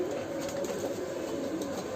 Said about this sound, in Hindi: ये पुराने कबूतर हैं, संभाले हैं,